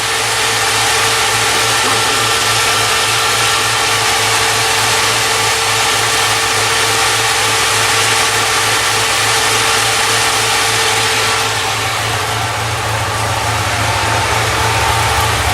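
A 1960 Triumph TR3 engine idles loudly and steadily, a deep even rumble with a constant hum that shifts slightly in tone near the end.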